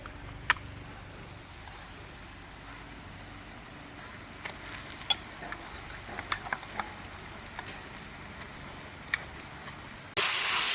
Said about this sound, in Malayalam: ഇട്ട് കൊടുക്കാം നമുക്ക് ചട്ടിക്ക്